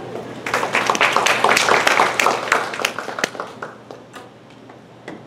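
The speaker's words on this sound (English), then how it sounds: "let's give Andy a big round of applause" An audience at a master class on writing for the web breaks into dense, lively applause that peaks early and then gradually thins and fades toward the end.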